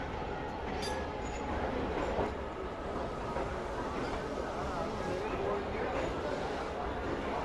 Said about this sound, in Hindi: 6:05 पर ट्रेन हमारी अप्रोच बना रही है हैदराबाद जंक्शन रेलवे स्टेशन पर